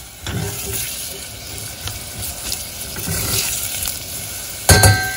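Chopped onions frying in about two tablespoons of oil in a pan, a steady close sizzle with a few spoon stirs and clinks, ending in a brief louder clatter near the end.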